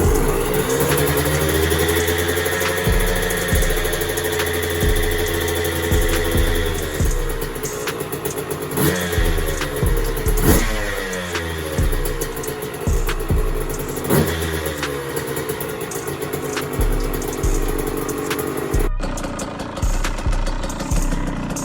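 A newly bought motorcycle's engine starts with the choke on and settles into a steady idle. The rumble is loud and close, with a few shifts in pitch as it runs, and there is no talk.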